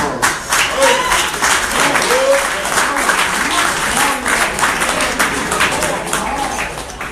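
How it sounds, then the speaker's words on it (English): An award ceremony audience claps in a lively, uneven burst for several seconds, with scattered voices and cheers mixed in, at a college scholarship signing-day event. "Another round of applause."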